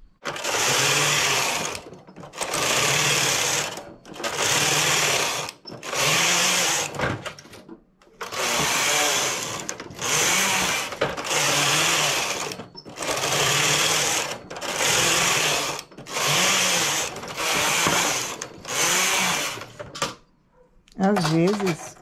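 Knitting machine carriage sliding back and forth across the needle bed while knitting a pattern, a series of long, loud, whirring mechanical passes separated by brief pauses, with a voice occasionally audible between strokes.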